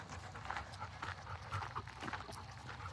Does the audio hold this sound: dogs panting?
yes